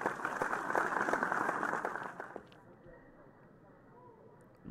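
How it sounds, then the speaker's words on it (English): Applause for graduates at a graduation ceremony: a dense crowd clapping loudly for about two seconds, then cutting off abruptly into quieter room tone. "A round of applause."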